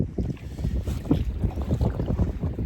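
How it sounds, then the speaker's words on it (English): A light breeze blowing across a boat traveling down the Yellowstone River toward the Missouri, heard as a steady low rumble of wind buffeting the microphone with soft, irregular gusts. "There you go, a little bit of breeze blowing."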